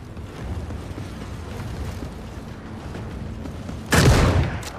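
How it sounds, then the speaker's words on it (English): A weapon fires in the video game The Forever Winter, a single loud, sharp burst cutting through a busy, rumbling battlefield din. "I just shot my weapon"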